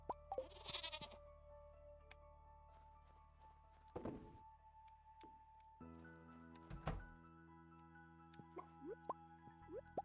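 Sheep bleats on a farm in the video game Stardew Valley come through as short, faint calls amid soft in-game plops, thunks and a door-like knock over a quiet musical drone, with no talking.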